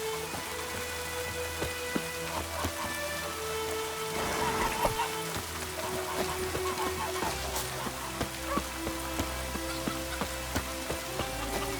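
Rain in The Witcher 3, falling steadily as a dense patter of drops on surfaces that runs without a break, close and fairly loud, with a low ambient hum beneath and no talking.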